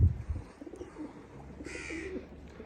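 Pigeons at feeding time, being given grain and water, cooing softly and faintly against a low rumble of background noise, with a brief brighter chirp partway through.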